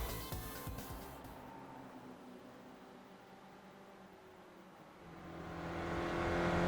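An SRF race car idles and revs on the Summit Point circuit in iRacing, a steady engine drone under hissy noise. It fades briefly, then swells again as the engine builds toward the end, with no talk.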